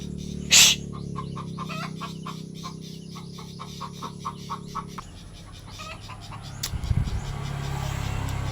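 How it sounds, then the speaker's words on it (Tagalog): Noisy birds, chickens and roosters among them, call in the morning outdoors as the sun comes up after rain, with many short repeated chirps and clucks at moderate distance over a steady background hum. "Ang ingay ng ibon dyan mga palangga."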